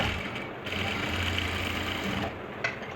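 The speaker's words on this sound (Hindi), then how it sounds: "तो इस तरह से ये मैंने सिलाई लगा ली है" Domestic sewing machine stitching the hem of an Afghani salwar, a continuous steady motor whir with rapid needle clatter, close and even, briefly pausing near the end; no talk.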